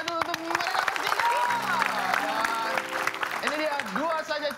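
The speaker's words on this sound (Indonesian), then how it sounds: "Oke, beri tepuk tangan yang paling meriah dulu untuk mereka bertiga." A studio audience claps and cheers for three guests on an Indonesian comedy show. Applause runs steadily under a host's lively talk and laughter.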